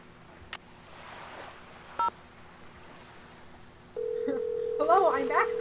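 Phone dialing in a Nancy Drew video game: a couple of isolated beeps, then a steady dial tone followed by a quick run of rising and falling keypad tones over faint background.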